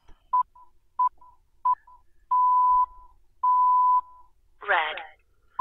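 Beep code in the video game Stonewall Penitentiary: three short electronic tones spaced evenly, followed by two long sustained tones, clean and distinct, with a brief spoken word between them.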